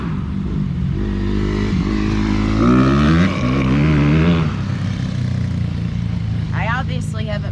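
Four-wheelers and dirt bikes at a busy offroad park rev and drone past nearby, their engines rising and falling continuously under a person talking.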